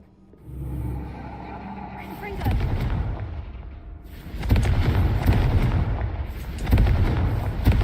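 Confringo fire-spell blasts in the Hogwarts Legacy video game boom out loud and close, in three or four heavy bursts with rumbling tails between them.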